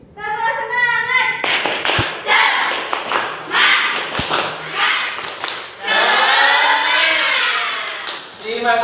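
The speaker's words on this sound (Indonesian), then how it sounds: "kalian lakukan tepuk semangat dahulu agar kita pada pagi hari tetap semangat" Classroom children performing the rhythmic 'tepuk semangat' spirit clap, with loud patterned bursts of clapping and a few sharp thumps as young voices chant along in unison, close and energetic.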